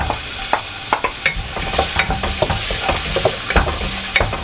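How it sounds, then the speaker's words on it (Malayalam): Cumin seeds and sliced onion fry in hot oil, giving a loud, continuous sizzle broken by frequent sharp crackles and the scrape of stirring in the pan. "എണ്ണ ചൂടായി കഴിയുമ്പോൾ കുറച്ച് ജീരകം ചെറിയ ജീരകമാണേ സവാള"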